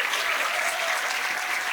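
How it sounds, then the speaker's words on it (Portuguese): Audience applause at a winter festival politics panel in Brazil, a dense, even wash of many hands clapping throughout the short stretch. "Lira Neto, uma salva de palmas"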